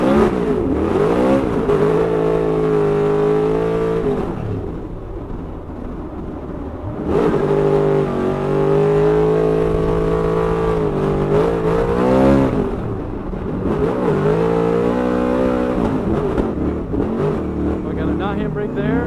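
RTR Ford Mustang naturally aspirated drift car at a Formula Drift Atlanta practice lap, engine revving hard at full throttle in long sustained pulls with brief lifts between, loud and close throughout, with a driver speaking over it.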